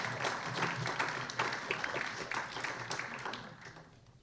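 Audience at a chamber of commerce candidates forum gives a round of applause, a moderate patter of clapping that gradually fades out.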